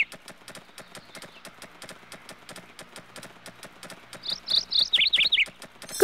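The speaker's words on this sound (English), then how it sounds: "Make your horse walk" Horse hooves walk in a Silver Buckle Stables video game, an even clip-clop repeating steadily throughout, with a few high bird chirps rising over the hoofbeats near the end.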